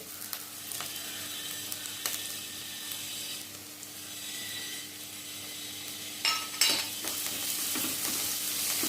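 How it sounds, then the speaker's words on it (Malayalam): Onion, ginger, garlic and curry leaves sauté in a pan for a rajma gravy, giving a steady soft sizzle with intermittent scraping stirs and a brief louder clatter near the end, no voices. "ഈ സവാളയുടെയും ഇഞ്ചിയുടെയും വെളുത്തുള്ളിയുടെയും ഒക്കെ പച്ചമണം മാറുന്ന വരെ നമ്മൾ വഴറ്റി കൊടുക്കണം"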